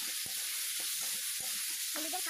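Turmeric powder being stirred into tomato and potato in a hot pan for a Bengali tomato-potato tok, a steady close sizzle with intermittent scraping strokes of the stirring spoon.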